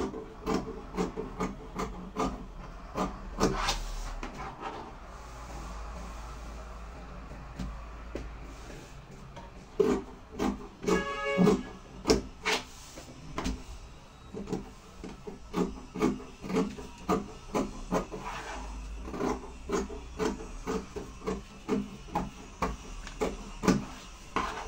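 Scissors snip through Mikado silk fabric in a run of crisp, close cuts with quiet pauses between bursts, trimming a dress yoke with a half-inch seam allowance.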